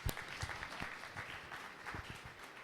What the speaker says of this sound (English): Just give me another round of applause.